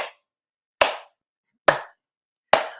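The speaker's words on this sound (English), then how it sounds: "Slow clap." Four slow, deliberate hand claps, evenly spaced about a second apart, crisp and close with silence between each.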